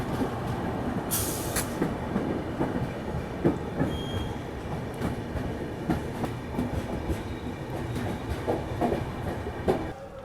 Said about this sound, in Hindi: यहाँ पे किसी ट्रेन का डिपार्चर जो है वो हो रहा है।